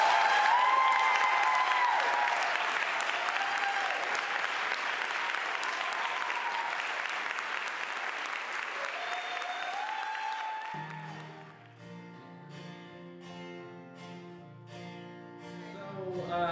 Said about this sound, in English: Won't you make them welcome with a warm applause?